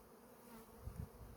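Honey bees buzz at a hive in a brief, steady, fairly faint drone, with no voices.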